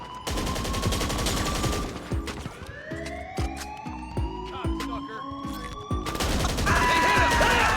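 Gunfire in a GTA 5 shootout during the Dr. Dre VIP contract mission: dense bursts of loud, rapid shots crack out with rising and falling police sirens wailing over them and a continuous busy backdrop.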